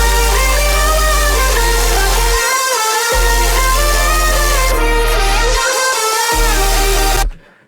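Future bass drop synths, played with only the sub and no mid basses: loud, dense sustained chords with brief rhythmic gaps, then an abrupt stop.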